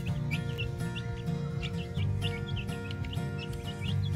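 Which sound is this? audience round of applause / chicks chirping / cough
chicks chirping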